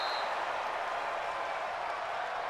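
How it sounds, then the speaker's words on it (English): A football stadium crowd roars during a Seattle Seahawks versus New York Jets game, a dense, sustained wash of cheering and noise, loud and continuous with no individual voices standing out. "this crowd gets up making some noise"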